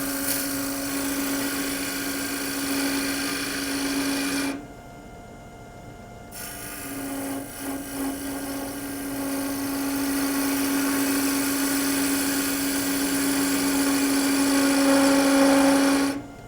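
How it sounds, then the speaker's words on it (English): A wood lathe spins an end-grain lidded box while a spindle detail gouge faces off the end, giving a steady whining drone that drops out briefly for a moment and then resumes at a similar level. "First thing I'll do is use a spindle detail gouge just to face off this end."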